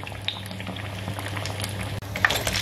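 Bread pakora frying in oil gives a soft, close, continuous bubbling with faint crackles, fairly quiet and without talk.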